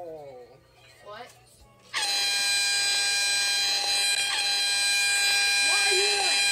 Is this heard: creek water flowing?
no